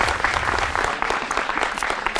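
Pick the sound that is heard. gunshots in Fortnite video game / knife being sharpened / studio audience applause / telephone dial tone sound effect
studio audience applause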